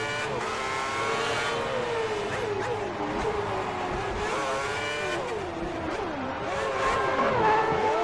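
Race cars in a racing video game at Singapore 2010 roar past and rev steadily, engine pitch rising and falling through gear changes, loud and continuous with little else over them.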